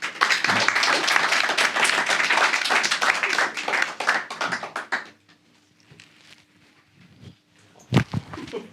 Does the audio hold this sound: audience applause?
yes